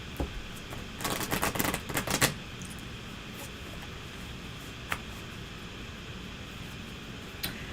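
A deck of 36 Lenormand cards being shuffled: a dense burst of rapid papery riffling clicks, then a few isolated soft taps against quiet room noise.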